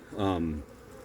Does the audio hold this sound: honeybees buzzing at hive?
yes